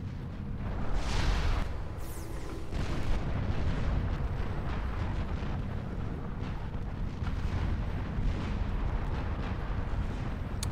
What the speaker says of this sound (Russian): Дальнобойная артиллерия.